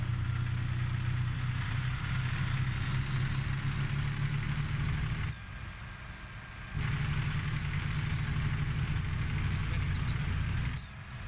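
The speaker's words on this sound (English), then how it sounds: "But for a base game truck, this thing sounds pretty gnarly." A Western Star 49X truck engine idles in American Truck Simulator, a steady deep rumble that holds loud and even, dips briefly around the middle and near the end, then returns.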